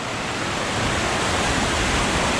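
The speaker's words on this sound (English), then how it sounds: "this is where Laurel Creek meets up with the Watauga" Laurel Creek pours into the Watauga River beneath a bridge, a steady, full rush of water that holds constant and close throughout with no voices.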